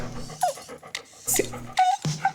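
A dog pants in the Stardew Valley credits, giving several quick, breathy huffs with small yips mixed in. Soft background music plays beneath them.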